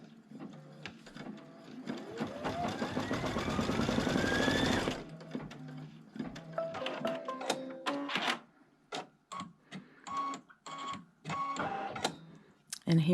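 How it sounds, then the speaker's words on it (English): A sewing machine runs a straight seam through fabric for a quilted Christmas tree project, a steady whirring stitch for about five seconds, then stops, followed by scattered handling clicks and faint talk. "It's just going to sew a straight line."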